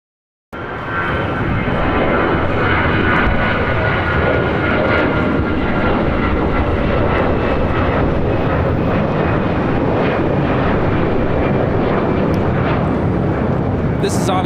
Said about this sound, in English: Now touching down here on 25 left is China Airlines Cargo